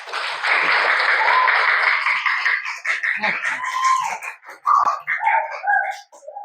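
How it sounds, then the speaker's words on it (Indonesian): Applause from students in a classroom, a burst of clapping that starts at once and tapers into scattered claps and voices before fading out. "tepuk tangan untuk kalian semuanya"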